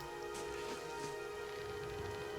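Steady rain falls in the Pillars of Eternity video game, a soft continuous hiss with faint pattering drops, heard alone at a low level.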